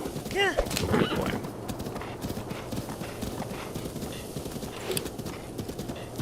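Horse hooves clip-clop in a steady galloping rhythm in The Legend of Zelda: Breath of the Wild, with a brief whinny near the start and light in-game ambience throughout.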